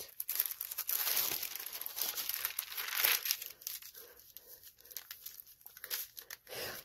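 A paper sewing pattern for free-cut quilt piecing is handled and folded, giving close, soft crinkling and rustling in uneven bursts, louder at first and then quieter with scattered crackles.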